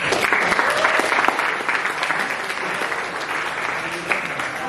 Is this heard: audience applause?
yes